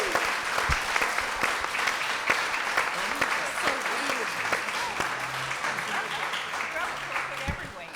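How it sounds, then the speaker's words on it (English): A crowd at a live panel Q&A applauds steadily, a dense roar of many hands clapping together that holds at an even level throughout without fading. "let's give them a round of applause first."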